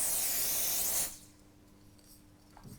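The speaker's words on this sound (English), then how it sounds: "We've got the Miracle Mist spray." A steady hissing mist spray of nail polish drying spray for about a second, then it stops, leaving near silence.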